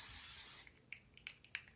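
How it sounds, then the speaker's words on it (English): L'Oreal Infallible setting spray misted onto a face: a steady close hiss for about half a second, followed by a few short, faint spritzes and rustles. "I'm gonna finish my summery birthday makeup off with L'Oreal Inflammable Setting Spray."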